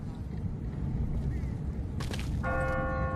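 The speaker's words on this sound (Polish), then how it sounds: "Dzwonią dzwony w kościele." Church bells ring out in The Walking Dead video game, a run of bright clanging strikes with a sustained ringing tone, heard over a steady low background rumble.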